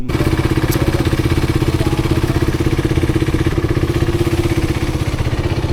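A motorcycle engine runs close by with a fast, even thudding pulse, holding a steady idle-like rhythm throughout with no voices.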